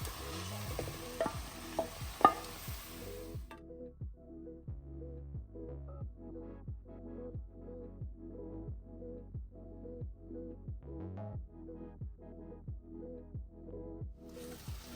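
Boiled potatoes being mashed by hand for fish cutlet, a steady run of soft, squelchy presses repeating at a regular rhythm, close up and fairly quiet, with no talking.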